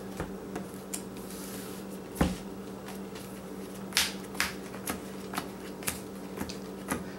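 A deck of playing cards being shuffled by hand, with a series of sharp riffle snaps and soft flutters repeating irregularly, close and fairly quiet over a steady low hum.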